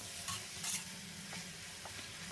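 Rice being stir-fried in a pan for old-style Thai soy sauce fried rice, a quiet steady sizzle with a few soft scrapes and clinks of the spatula, no voices.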